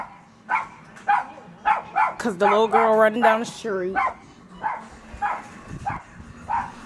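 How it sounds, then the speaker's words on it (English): A dog barks and yips in short, high bursts close by, just outside, while a person talks over it in a living room. "The dog just outside barking."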